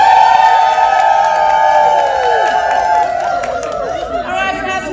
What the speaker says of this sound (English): Everybody cheer.